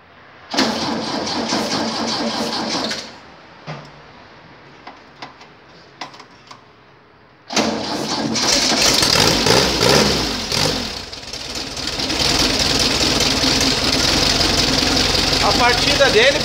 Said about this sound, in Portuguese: Vou tentar dar a partida aí para vocês ver como é que ele vai ligar.